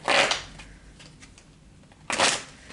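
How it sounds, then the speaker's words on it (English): Playing cards are shuffled twice, two quick riffling bursts with a quiet pause between them. "gonna shuffle one more time."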